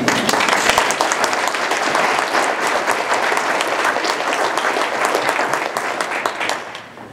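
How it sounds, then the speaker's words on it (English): A conference audience at a bike summit keynote bursts into loud, dense applause, sustained and even for several seconds before tapering off at the end. "let's just give Ian another really big round of applause."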